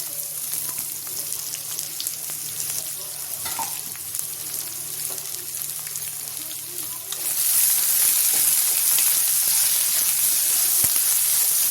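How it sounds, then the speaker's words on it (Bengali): Chopped potatoes and carrots hit a hot frying pan, giving a steady loud sizzle that swells sharply partway through, with faint stirring scrapes and no talking. "এখন আলু গাজর কেটে রেখেছি, একসাথে দিয়ে দিচ্ছি।"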